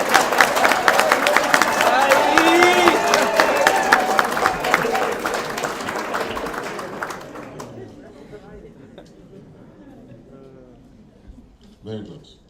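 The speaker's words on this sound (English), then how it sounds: "Now you can clap." An audience at a presidential address to Zambians in the UK breaks into loud clapping that swells, holds for several seconds, then gradually fades, with crowd murmur underneath.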